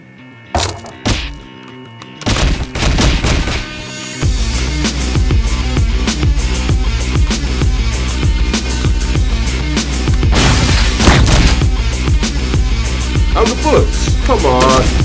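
Repeated gunshots fire in the indie video game Wake The Dragon, a dense run of sharp thumping blasts over a steady music bed after a couple of isolated shots at the start.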